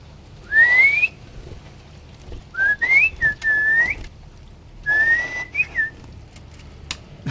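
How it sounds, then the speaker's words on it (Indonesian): An oriental magpie-robin whistles clear, bright song in three rising, warbling phrases, separated by short pauses, over quiet background hiss. "Malah siulan burung kacer."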